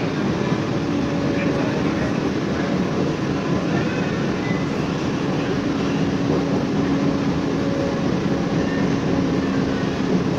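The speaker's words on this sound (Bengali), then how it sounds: "বন্ধুরা আপাতত আমাদের ট্রেন ঢুকে গেল ব্যারাকপুর স্টেশনে" An AC EMU local train on the Ranaghat to Sealdah line pulls into Barrackpore station, giving a continuous loud rumble and rail roar that stays steady throughout.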